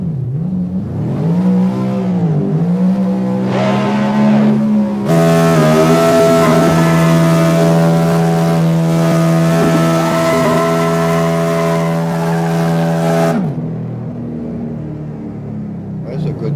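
A racing video game car engine revs up and down with gear shifts, its loud, steady drone climbing in pitch through several changes, and someone talks over it.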